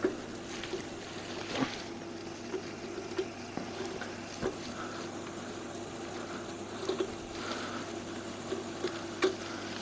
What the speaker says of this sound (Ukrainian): А зараз ми покажемо процес, як працює машина, як наматується трос крути. Мотор, редуктор.